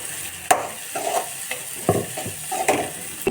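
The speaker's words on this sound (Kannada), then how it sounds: "ಪೌಡ್ರು ಹಾಕಿ ಸ್ವಲ್ಪ ಫ್ರೈ ಮಾಡೋಣ" Ground spice powder fries with softened tomatoes and greens in a pan, soft sizzling broken by a utensil's scraping stirs roughly every half second to second.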